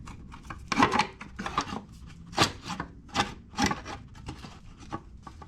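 A piece of 20 gauge sheet metal slid and scraped into place as a heat shield on an XR650L motorcycle exhaust, several rasping, rubbing strokes with scratchy bursts, close up and without speech.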